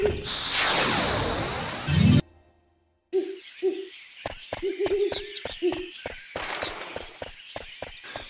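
Owls hoot in the Final Fantasy IX video game, Black Mage Village: a run of short, low, rounded hoots, some doubled, mixed with soft stepping and game effects after a brief silent gap.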